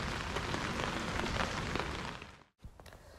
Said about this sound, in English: It was raining and everything was wet.